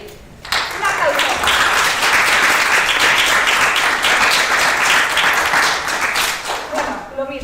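Applause for cosplay contestants dressed as Sans and Azuriel from Undertale at a convention cosplay stage contest. A short hush gives way to a loud, sustained burst of clapping from the crowd, close and full, which fades slightly near the end.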